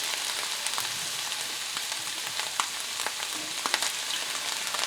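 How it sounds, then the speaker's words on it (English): Shredded cabbage and beef sausage sauté in a pan with a steady, soft, even sizzle and a few faint pops and stirring ticks, heard alone without voices. "we're just going to let this saute up and fry up"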